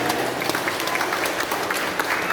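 Applause from a congregation at a Bona Taon church service gathering, a dense, steady patter of many hands clapping at moderate level throughout, with no talk over it.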